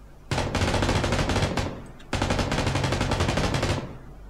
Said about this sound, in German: Oh, der hat ein MG.